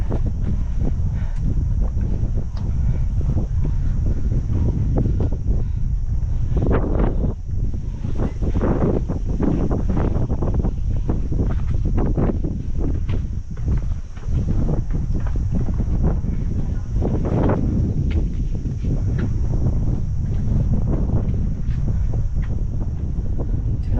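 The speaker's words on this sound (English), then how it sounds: "It's quite windy here, might lose my hat." Strong wind buffets the microphone at Sigiriya, Sri Lanka, a loud continuous roar with repeated heavier gusts.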